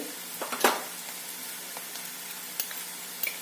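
Onion with turmeric, asafoetida and chili powder sautés in a pan for kurdai bhaji, giving a steady close sizzle with a few louder crackles and faint stirring taps, with no talk.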